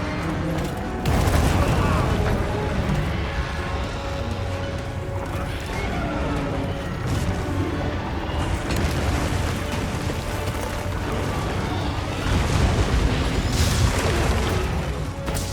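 A charged slinger shot from a compact anti-wyvern gun in the game Monster Hunter Wilds, loud booming blasts and mechanical clanks amid dense, continuous combat noise, with a voice speaking over parts of it.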